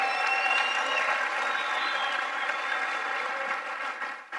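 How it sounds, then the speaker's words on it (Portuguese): Steady applause from an audience honoring visiting Brazilian businesspeople at an event in Angola, a full, even wash of clapping that holds for several seconds and tapers at the end. "Uma salva de palmas para esses empresários"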